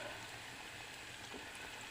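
Small cheese balls fry in hot oil in a pot, giving a soft, steady sizzle that stays faint and continuous with no voices.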